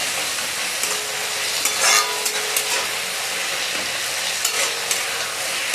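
Onions frying in oil on a high gas flame for mutton curry, a loud, continuous close sizzle with occasional stirring scrapes and no talking.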